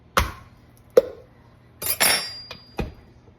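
Ricotta is turned out of a 3-pound container: a handful of separate knocks, taps and a dull thump spaced over a few seconds, close and fairly loud with quiet between them, with no voices.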